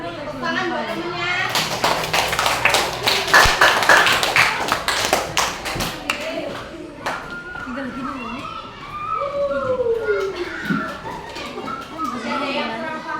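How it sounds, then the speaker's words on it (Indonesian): Schoolchildren in an Indonesian-language class clap for a classmate, a loud burst of quick claps early on that fades into children's chatter and talk, with a few taps later. "Tepuk tangan buat temennya."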